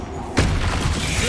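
A Confringo explosive spell blast in Hogwarts Legacy: a single sudden, loud burst that hits after a brief lead-in, then trails into a crackling, rumbling tail, with a voice heard in the scene.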